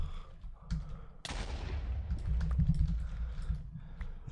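A TNT block explodes in Minecraft with the Hexxit modpack: a sudden loud blast at about 1.2 seconds, then a long rumbling, crackling decay with scattered debris clicks through the rest of the clip, no talking.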